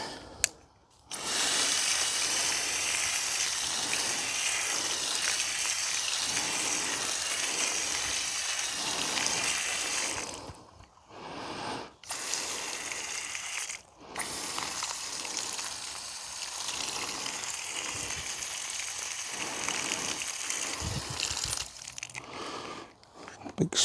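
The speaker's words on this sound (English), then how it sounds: "I'll go and get the hose and I'll give it a wee water for the top as well" Garden hose spraying water over a Satsuki azalea bonsai, a steady broadband hiss running nearly continuously with a few short breaks where the flow stops, close and fairly loud.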